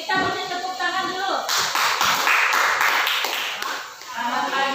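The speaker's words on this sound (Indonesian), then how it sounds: "Kita beri tepuk tangan dulu." A classroom of students clapping hands together to welcome the first group's presentation, a dense burst of quick claps from about one and a half seconds, with voices audible before and after.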